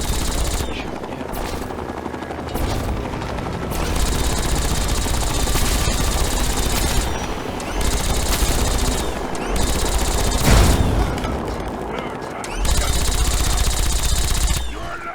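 Fawkes fires on enemies in a Fallout 3 battle in Vault 87, with loud, sustained bursts of automatic gunfire rattling almost nonstop and surging in intensity over a roaring backdrop.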